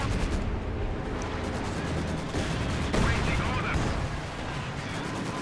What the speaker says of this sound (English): I'm gonna pull forward and call light artillery on these guys